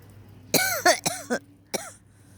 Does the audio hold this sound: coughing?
yes